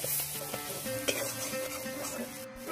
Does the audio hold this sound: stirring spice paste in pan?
yes